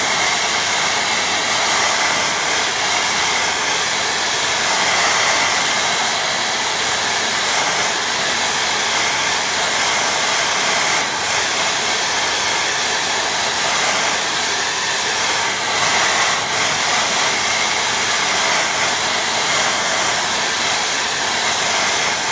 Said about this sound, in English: I'm going to give that a big dry now.